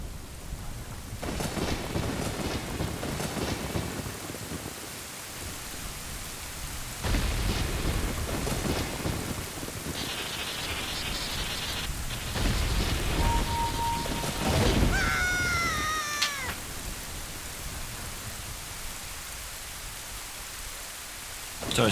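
Rain and thunder from the Legend of Zelda Ocarina of Time video game: a constant hiss of rainfall with swelling rolls of thunder, then a few short chiming game tones near the end.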